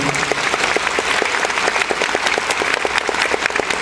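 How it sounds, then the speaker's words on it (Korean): A concert crowd at Jang Min-ho's solo show in Seoul gives dense, sustained applause, loud and continuous, with faint rhythmic claps pulsing through the roar. "박수 한번 보내주세요"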